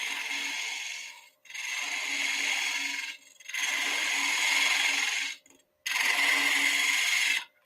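A woodturning tool scrapes wood on a lathe spinning at 1500 RPM, making three sustained raspy passes broken by short pauses, close and steady with no talking.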